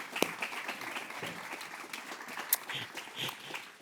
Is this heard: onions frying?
no